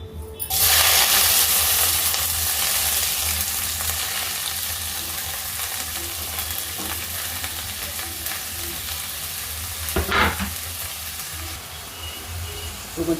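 Chopped onions, green chillies and curry leaves dropped into hot oil for a simple potato-tomato curry, hissing in a loud, steady sizzle that fades slightly over time, with a brief clatter of stirring partway through and no talking.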